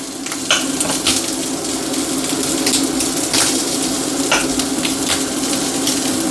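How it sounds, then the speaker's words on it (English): Thick slices of ham crisp and sizzle in a frying pan, a steady broadband frying hiss with occasional sharper spits and pops, close and fairly loud with no talking. "So I've sliced it quite thick, and then hopefully we can crisp it up a little bit in the pan."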